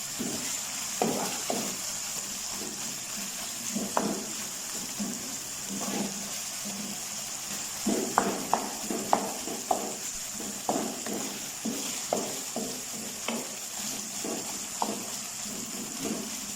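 Chicken mince with peas and spices fries in a pan, a soft constant sizzle broken by repeated scraping strokes of a stirring spoon, fairly quiet and close, with no voices.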